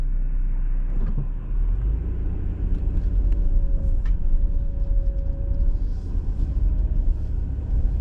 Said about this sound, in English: I'm just gonna let these two cars drive by so that I can drive a little slower.